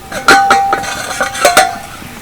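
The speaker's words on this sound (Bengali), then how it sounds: "এবার ঢাকনাটা খুলে নেব" A metal lid comes off a cooking pan partway through a raw chickpea vegetarian dish: a few close, sharp clinks and a short ringing metallic scrape, with no talking.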